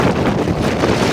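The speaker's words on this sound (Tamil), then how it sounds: "அதிகளவான காற்று தான் வீசுது." Strong storm wind blows by the sea on flooded Jaffna roads, a loud, dense roar battering the microphone without a break.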